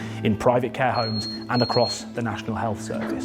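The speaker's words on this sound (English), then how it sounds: "That is an actual alarm going off." A high electronic alarm from a played news broadcast beeps briefly twice under a newsreader's continuous speech, fairly faint beneath the voice.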